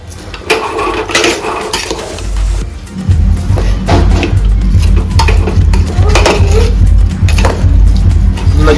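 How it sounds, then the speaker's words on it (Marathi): A spoon stirs rice and beans in a pot for spiced val masale bhaat, scraping and clinking against the metal. A steady low sizzling hum joins partway through. "चांगलं आपण हलवून घेऊ."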